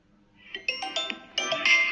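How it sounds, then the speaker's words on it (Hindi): Ringtone from a Vivo Y21 smartphone, a bright melodic chime of quick rising and falling notes that grows louder toward the end, played alone without talk. "ringtone volume"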